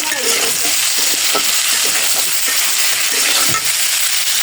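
Spices with salt, turmeric, chili powder and green chilies sizzling and frying loudly in a pan, with scraping stirs and a constant crackling hiss close up.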